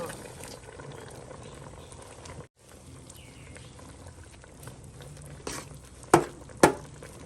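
A pot of Thai curry with vegetables and chilli paste simmers steadily with a soft bubbling hiss, broken by a brief pause and then two sharp clanks of a utensil against the pot near the end.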